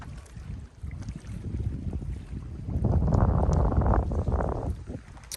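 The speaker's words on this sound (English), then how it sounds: "Still quite windy on the lake." Wind gusts over a lake along a wilderness trail, a low rumbling roar on the microphone that swells louder midway through and then eases slightly, steady and without speech.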